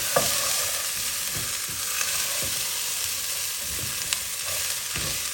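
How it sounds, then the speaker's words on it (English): Chopped green beans sautéing in a pan for a South Indian beans poriyal, a steady bright sizzle with occasional stirring clacks and scrapes, close and continuous with no voices. "now we are going to add green beans, chopped green beans. Saute for a little while."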